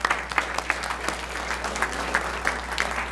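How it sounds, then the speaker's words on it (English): Applause fills a town council meeting right after the Pledge of Allegiance: a steady, dense wash of many hands clapping at close range, with no talk over it. "Give them a round of applause."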